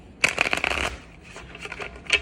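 A deck of oracle cards is shuffled by hand, a run of crisp riffling flutters and taps with brief pauses, close and clear with no talking.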